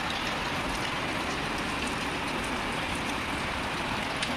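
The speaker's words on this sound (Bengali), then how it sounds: "খুব বৃষ্টি হচ্ছে।" Heavy rain falls steadily and continuously as a dense, even hiss, close and fairly loud, with no voices over it.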